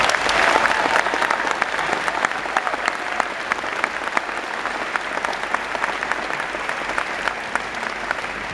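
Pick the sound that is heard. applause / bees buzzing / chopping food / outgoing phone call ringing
applause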